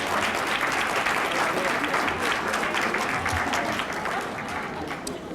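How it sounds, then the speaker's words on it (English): Audience applause fills the room at a drug court 20th anniversary luncheon and awards ceremony, welcoming a speaker to the podium; dense, steady clapping from a large crowd, loud throughout and easing slightly toward the end. "Please, by your applause, welcome Latoria Eason."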